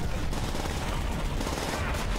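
Dense, continuous automatic gunfire from a Call of Duty campaign battle, loud and unbroken, with rapid overlapping shots filling the whole stretch.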